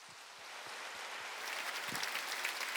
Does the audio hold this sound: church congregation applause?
yes